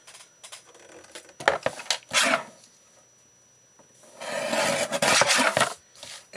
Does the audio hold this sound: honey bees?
no